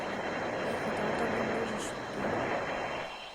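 An aircraft flying in the Roblox game Brookhaven, a steady broadband engine drone that holds at a constant level throughout, heard under a young voice talking.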